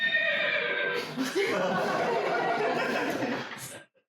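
A voice imitates a horse's whinny in a long, wavering, breathy neigh that trails off near the end.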